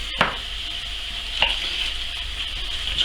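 Oil and a knob of butter sizzle steadily in a frying pan, a continuous close hiss with a few brief louder crackles and spits along the way, no voices.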